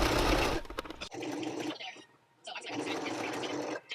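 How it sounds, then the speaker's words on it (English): A household sewing machine stitching fabric for a Christmas craft, running in rapid whirring bursts with short pauses between, close and steady, while a person talks nearby. "I'm going to go ahead and just use my sewing machine this time around"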